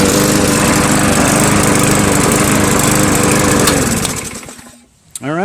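A used lawnmower engine with a newly replaced carburetor runs loud and close with a steady chugging roar, then cuts out and dies away, leaving near silence and a brief knock at the end.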